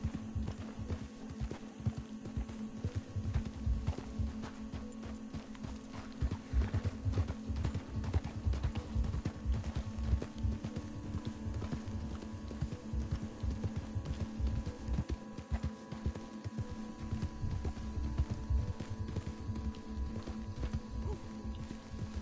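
Horse hooves clip-clop in steady rhythm in the video game Red Dead Redemption 2, a close, continuous trotting beat over a faint hum.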